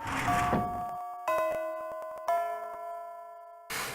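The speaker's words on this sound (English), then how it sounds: "The bell for class rings as I try to recollect" A school class bell in the Fate/Extra video game sounds as a series of resonant chime strikes, each ringing out and decaying before the next, with no talking.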